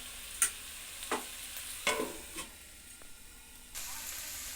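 Mutton liver and fat frying in a pan hiss under a low sizzle, broken by several sharp spatula scrapes and stirs spaced about a second apart, with a louder sizzle swelling up near the end.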